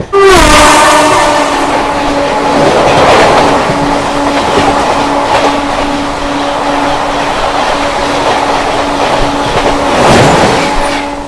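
A MEMU train pulls out of Uluberia station, its loud horn sounding at the start and again near the end over a steady rumble of wheels and carriages.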